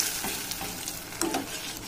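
Dry fruits crackle in hot tempering as they are stirred into rice kheer, giving soft sizzling with light scraping stir strokes, fairly close and quiet.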